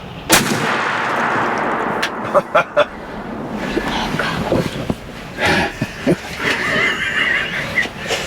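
Shotgun blasts during a Florida Osceola turkey hunt, several sharp loud reports close by in quick succession amid outdoor rustle, with people speaking around the shots.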